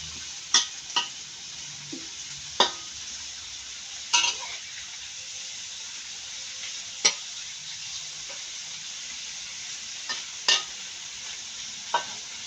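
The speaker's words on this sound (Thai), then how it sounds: "หมูคอเริ่มสุกแล้วนะครับ" Pork neck frying with garlic in a wok, a steady soft sizzle broken by sharp stirring clinks of a spatula against the pan every second or two, heard alone.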